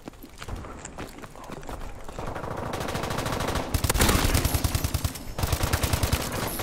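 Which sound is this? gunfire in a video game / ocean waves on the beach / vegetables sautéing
gunfire in a video game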